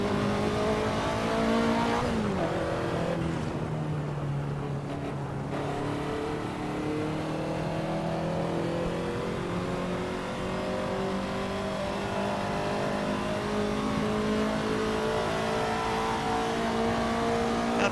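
A Ferrari 288 GTO engine in the Assetto Corsa racing game holds a loud, steady high-revving drone, with a quick gear change early on and then a continuous strained wail building gradually.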